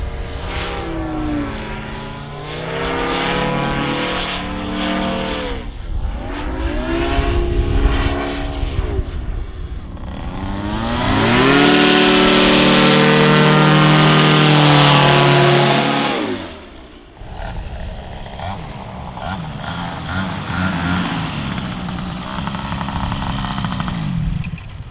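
Aries 260 paramotor engine running in flight during an ascending right turn, a loud steady propeller drone with harmonic whine that swells in pitch and volume midway, then eases back to a lower cruising hum.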